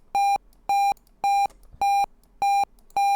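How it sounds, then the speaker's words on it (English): Regular electronic beeps from a homemade C# operating system, set off by a mouse click: six identical steady tones about half a second apart, loud and clean with no talking. "I don't know if you guys can hear that, but it's beeping."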